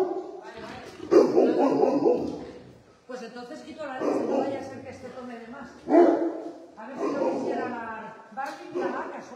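Dog barking repeatedly on a farm in several bursts, close and fairly loud, mixed with a person speaking over it.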